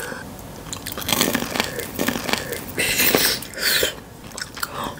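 Crisp, close bites and chewing of freshly fried shrimp wrapped in noodles, with several loud crunches in an irregular rhythm.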